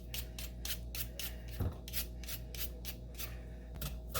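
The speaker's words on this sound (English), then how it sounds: "I'm using a peeler. Just thinly peel this" A peeler shaves thin strips from a carrot in quick, even strokes, about a dozen close, soft scraping rasps with a short pause partway through.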